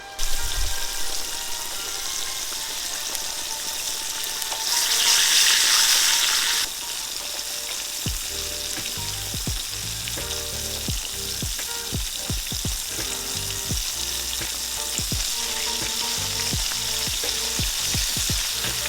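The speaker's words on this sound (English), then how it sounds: "We're going to let it fry on one side." A flour-coated ribeye steak fries in hot oil in a pan, giving a loud, steady sizzle that later breaks into sharp crackling pops, with no talking.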